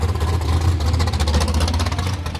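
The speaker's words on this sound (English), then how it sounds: "I'll let this crazy loud car sneak by." A very loud car at a drag strip rumbles close by during bracket racing, its engine a steady, throbbing drone with rapid pulsing firing that stays strong throughout.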